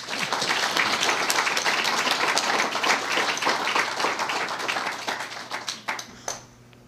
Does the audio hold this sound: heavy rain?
no